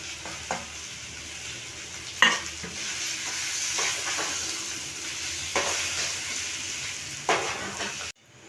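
Chicken patty filling stir-frying in a pan with coriander leaves added, a soft continuous sizzle broken by several sharp scraping strokes of a spatula.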